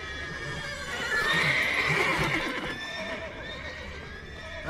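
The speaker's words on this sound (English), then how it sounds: "Why are these horses so loud, dude?" Horses neigh and whinny in a stable in The Witcher III, with loud overlapping calls peaking early on, over a steady game ambience and a few hoof clops.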